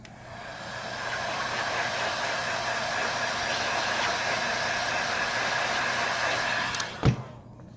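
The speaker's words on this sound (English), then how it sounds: "you blow heat right here" A hot air blower heats the cracked screen of an iPhone XS during a repair, a steady moderate whooshing hiss with a brief louder knock near the end.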